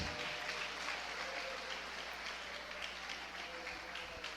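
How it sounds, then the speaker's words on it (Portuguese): Soft, distant clapping from a church congregation during a Bible study, a steady low wash of applause held at the same faint level throughout. "Fica ao seu critério aplaudir a Jesus."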